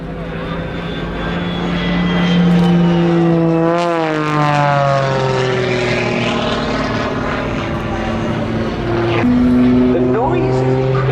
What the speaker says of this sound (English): Two jet engines, as we said earlier, the Lynx turbojet designed and built by AMT-NL